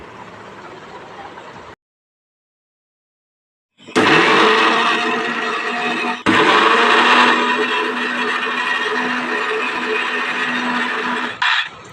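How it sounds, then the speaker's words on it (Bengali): An electric mixer grinder blending mustard spice paste whirs loudly in bursts, starting briefly, pausing in silence, then running hard with a short break and a final stop. "মিক্সার মেশিনে দিয়ে ভালো করে পেস্ট বানায় নেওয়ার লাগবো।"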